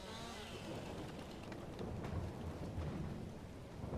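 Steady rain patters down with low rumbling thunder rolling through, a storm in the Farming Simulator 22 countryside, continuous and moderately loud with no voices.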